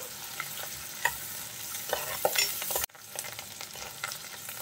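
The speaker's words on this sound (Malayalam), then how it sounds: "അതിലൊരു പച്ചമണം മാറുന്നത് വരെ നമുക്ക് നന്നായിട്ടൊന്ന് വഴറ്റിയെടുക്കാം." Curry leaves are sautéed in a pan for a fish curry made with ulluvachi fish, giving a soft sizzle broken by sharp scraping stir strokes at irregular intervals, close and fairly quiet.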